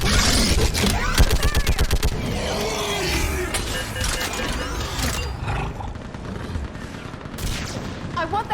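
A Mass Effect Legendary Edition battle erupts with rapid bursts of gunfire, dense rattling volleys up front that thin into scattered shots and roaring effects, while voices shout commands over the combat.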